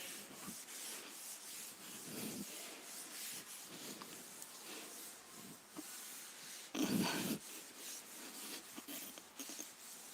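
A classroom board being rubbed clean during a thermodynamics lesson, a faint steady scrubbing and swishing that continues for several seconds with one louder stroke near the end.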